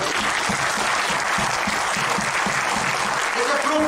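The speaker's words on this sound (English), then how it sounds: "Let's clap for it." Audience at a leadership lecture breaks into continuous, full-bodied clapping, a steady crowd applause at even loudness throughout.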